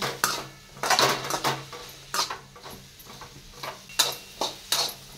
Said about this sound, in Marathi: 1 चमचा मॅगी मसाला घालणार आहे आणि आता हे सर्व मिक्स करायचं आहे.